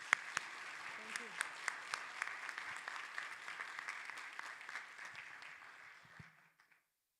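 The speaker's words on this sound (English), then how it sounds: "I'd like to offer a round of applause, please, to the speaker and to the guests." An audience claps after a university endowed lecture, the applause fairly faint and distant, with a few sharper nearby claps early on before it thins and fades out to silence near the end.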